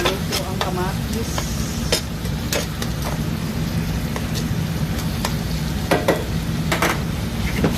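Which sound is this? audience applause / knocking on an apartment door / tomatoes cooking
tomatoes cooking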